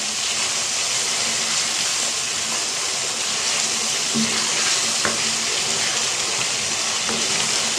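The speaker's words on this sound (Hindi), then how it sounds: "दो मिनट इसे हम भूनेंगे अच्छे तरीके से।" A chicken and vegetable mixture fries in a pan over a medium flame, giving a constant, even sizzle with a couple of faint clinks from stirring.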